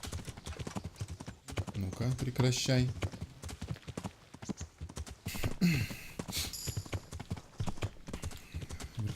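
Hooves of a horse ridden in the medieval video game Kingdom Come Deliverance clop in a steady rapid rhythm beneath someone talking, with a brief snort or whinny partway through.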